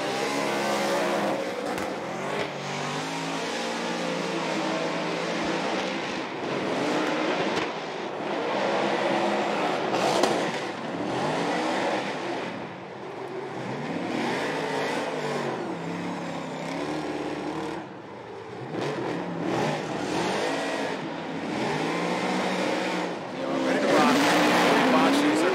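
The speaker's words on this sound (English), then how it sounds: "Smoke is being created. Now coming down through the power alley, Odie Boxer seems to be hanging on." A drift car on a championship competition run, engine revving hard and rising and falling in pitch with squealing tires, loud and continuous under excited commentary.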